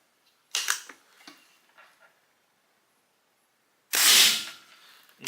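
A Pinty .22 caliber PCP air rifle fires once during a chronograph test, giving a sharp, loud crack with a short tail. A few faint clicks and handling noises come before the shot.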